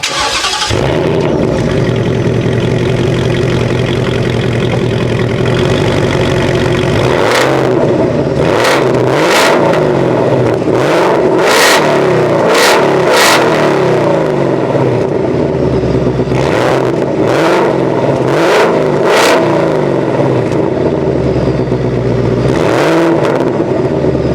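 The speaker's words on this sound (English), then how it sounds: "let me fire this thing up and give you some exhaust clips." A car engine starts and revs repeatedly through a loud exhaust, sharp throttle blips rising over a constant rumbling idle, close and loud.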